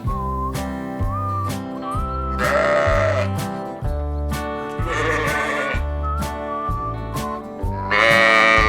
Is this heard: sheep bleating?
yes